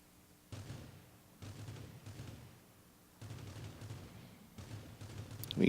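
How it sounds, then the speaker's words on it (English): In the game Rules of Survival, several bursts of distant gunfire come in irregular clusters, faint and muffled, with a louder pop at the very end. "we got gunshots coming in from the northeast"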